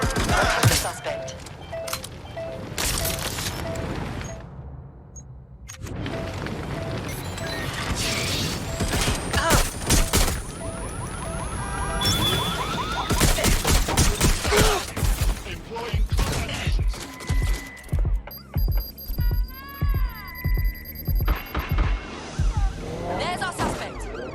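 Gunfire and crashing mechanical action from the video game Watch Dogs Legion, with loud bursts and impacts through a busy mix, then a run of regular repeated shots toward the end, alongside game voices.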